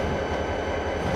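Locomotive rolling on rails in Trainz 2010 with the throttle at zero: a steady, fairly loud rumble with a faint mechanical hum, coasting without clear wheel clicks.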